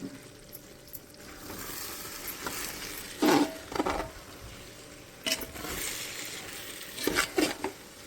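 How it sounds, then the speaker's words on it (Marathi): Spices being roasted in a pan for Kolhapuri onion-garlic chutney give a faint sizzle, broken by several loud scraping stirs and clinks of a utensil against the pan. "मी आता एक मार्गी मसाले भाजून घेणार"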